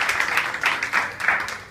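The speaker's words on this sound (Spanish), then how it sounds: "un gran aplauso para Maluma" A short round of applause for Maluma at a youth event, steady clapping of moderate loudness from a small crowd, with no break over the brief stretch.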